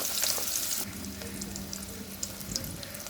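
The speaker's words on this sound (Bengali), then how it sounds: "এখন পেঁয়াজ দিয়ে দিব" Onions sizzling in a wok of leftover fish-frying oil, a steady close crackle with a brief louder hiss at the start, no voices.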